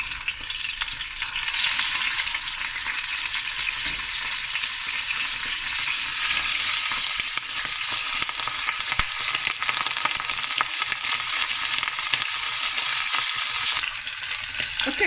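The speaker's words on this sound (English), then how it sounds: "so I've browned the meat nicely, the lamb shanks" Four salted lamb shanks browning in a hot pan, a loud, continuous close sizzle and crackle holding steady for the whole stretch, with no talking.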